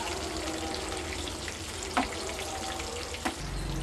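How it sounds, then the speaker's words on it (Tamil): Chicken pieces coated in crushed Lays chips frying in hot oil, giving a steady dense sizzle throughout with a couple of brief louder pops or stirring knocks, close and with no talk. "பாருங்கள், இந்த அளவுக்கு நல்லா ஃப்ரை ஆகிடுச்சு."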